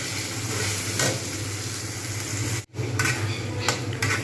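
Tomato and spice masala frying in oil in a pan, a continuous loud sizzle with occasional stirring scrapes and one brief pause where the sound cuts out before resuming.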